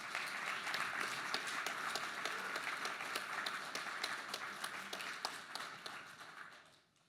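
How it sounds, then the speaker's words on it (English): An audience at a keynote presentation gives a round of applause: dense, steady clapping from many hands that holds for several seconds, then thins and fades away at the end. "Like another round of applause,"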